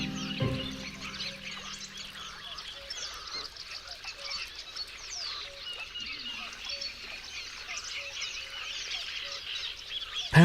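Shelducks, a duck species very rare in Poland, call in a wetland with repeated honking and quacking notes amid a busy chorus of other birds, fairly close and continuous, with a brief low bump at the start.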